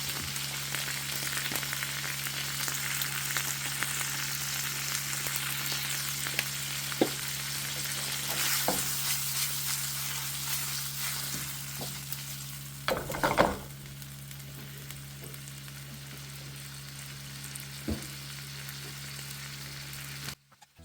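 Potatoes for torte de papas frying in a pan, a continuous close sizzle with occasional scrapes and clanks of a utensil stirring, one louder clatter midway, a low hum underneath.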